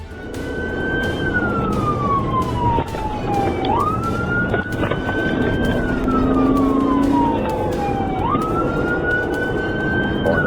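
A police car siren wails loud and close during a high-speed chase, cycling through long rising and falling sweeps over a steady engine and road roar, with no talking.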